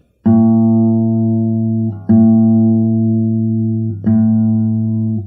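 A guitar string is tuned down, ringing out three times in a row, each pluck sustaining steadily, with the pitch shifting slightly lower between notes.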